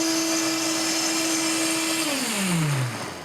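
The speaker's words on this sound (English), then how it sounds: "This is such an amazing blender. It gets it so smooth and creamy." A blender processing macadamia nut yogurt whirs steadily, then its motor pitch drops sharply as it spins down and stops near the end.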